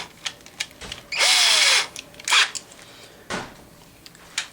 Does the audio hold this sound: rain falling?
no